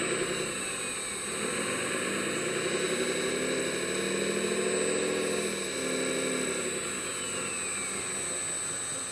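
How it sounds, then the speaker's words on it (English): A radio-controlled wheel loader's small engine idles steadily in neutral, then revs up in a smooth rising and falling swell before settling back, with a constant high whine throughout. "the engine is now in neutral. It's revving."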